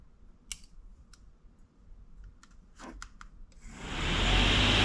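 Diesel heater with a faulty fan motor: a few sharp clicks, then the fan spins up into a steady rushing whir that grows loud over the last second.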